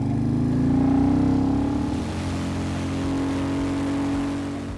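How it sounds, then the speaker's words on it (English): A classic British motorcycle's exhaust holds a steady, throaty, low roar, rising slightly then settling into an even drone, loud and close with no voices. "the exhaust note was pure classic British, a throaty, powerful roar that screams vintage speed."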